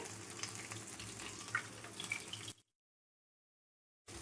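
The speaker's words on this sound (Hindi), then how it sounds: "अब हम इसमें ऑनियन रिंग को फ्राई करेंगे।" Onion rings fry in hot oil over low to medium heat, a soft steady crackling sizzle heard close for about two and a half seconds, then silence before the frying resumes briefly.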